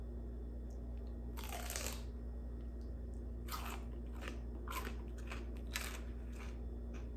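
Biting and crunching into a cold celery stick spread with peanut butter and topped with pretzel pieces, a few close, crisp bites followed by chewing, heard alone over a low steady hum.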